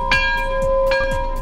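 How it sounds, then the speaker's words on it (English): A bell rings with clear, sustained tones and a few repeated strikes in quick succession, loud and close, with nothing else heard alongside it. "Somebody ring the bell!"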